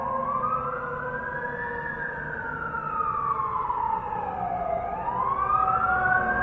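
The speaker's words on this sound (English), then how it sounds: "Fire truck. This time they're right in front of us." A fire truck siren wails close in front, its rising and falling tone sweeping slowly and steadily over several seconds over a low engine rumble.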